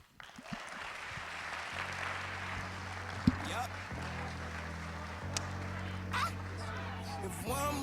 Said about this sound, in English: Another round of applause, y'all.